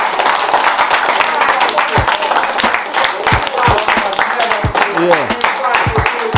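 Audience applause for the owners at a one-year anniversary gathering in Trench Town, a continuous dense spatter of clapping, close and loud, with voices and cheering mixed in.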